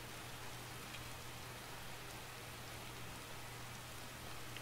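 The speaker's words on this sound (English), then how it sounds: "This rain really is terrible." Steady rain falls in Skyrim with the Falskaar mod, a soft, even, continuous patter that stays faint and unbroken with no voices.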